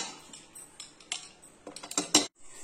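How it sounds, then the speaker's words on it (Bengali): The metal lid of a pressure cooker holding vegetables and water is fitted and locked: a run of short metallic clicks and clatters builds to a louder clank, then stops abruptly into quiet. "দিয়ে আমি এবার কুকারের মুখটা আটকিয়ে দেব।"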